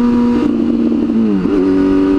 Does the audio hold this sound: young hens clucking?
no